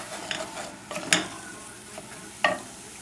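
Diced onions, garlic and carrots sautéing in a pan, a soft steady sizzle with a few sharp stirring scrapes and clicks of a utensil.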